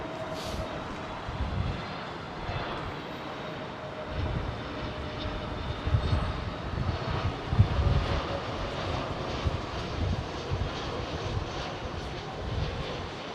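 A British Airways airliner in Bluebird special livery approaching London Heathrow gives a distant, steady low engine rumble with faint whine, continuous and fairly quiet with no talk.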